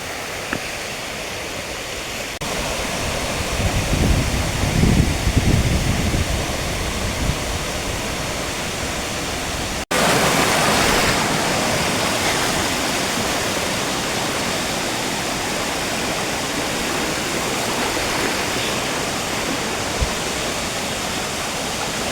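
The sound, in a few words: creek flowing through rainforest near waterfalls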